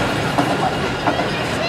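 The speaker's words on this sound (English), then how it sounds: "flying trains passing right above us" A Wuppertal Schwebebahn suspended monorail train passes overhead, making a steady, dense rumble with faint rail clatter that stays loud and even throughout.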